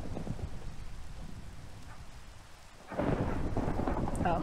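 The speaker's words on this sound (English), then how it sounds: "I don't think I've heard it storm this bad or this much since my island got attacked." A thunderstorm in the Minecraft video game pours steady heavy rain, then a loud rumble of thunder swells in and holds with the downpour beneath it.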